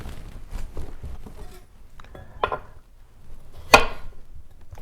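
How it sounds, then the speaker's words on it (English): A knife cuts slices off a potato on a cutting board while prepping a smoked mackerel corn chowder. A few sparse, sharp cutting taps ring out close by, separated by quiet pauses. "So I'm taking slices off the potato, a little bit thicker than the corn kernel"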